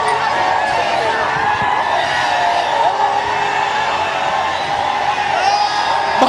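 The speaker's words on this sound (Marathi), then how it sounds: "भारताचा जल्लोष तुम्ही बघू शकता।" A dense crowd roars and whoops nonstop, celebrating India's T20 World Cup final win over South Africa, loud and continuous with no break in the din.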